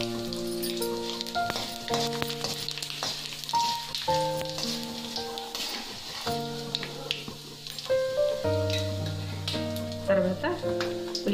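Cumin, mustard seeds and two dried red chillies sizzle and crackle in hot oil, a steady close frying hiss with scattered pops, heard under tonal music, with no one speaking.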